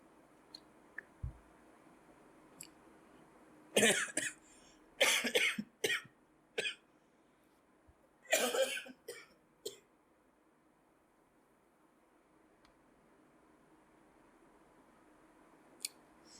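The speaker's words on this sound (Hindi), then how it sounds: "थोड़ा सा खांसी आ गया था" Several sharp coughs come in short bursts, a pair and then a cluster, against a quiet room with faint background hum.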